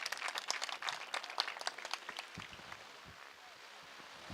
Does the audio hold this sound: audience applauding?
yes